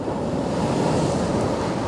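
Strong wind buffets a beach at Beesands during sea fishing in rain, with a steady roaring rush of gusts and surf blended into a loud, unbroken wash of noise.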